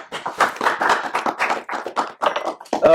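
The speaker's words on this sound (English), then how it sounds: "a big round of applause to Reed Smith for hosting us today this evening" Audience applause at an evening tech meetup, a room of people clapping in dense, uneven bursts that swell and dip, fairly close and lively throughout.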